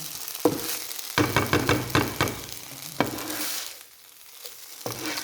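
Close stirring and scraping as winged termites are dry-roasted with herbs in a hot pan, a rhythmic series of dry scratches over a steady sizzle, then a quieter stretch.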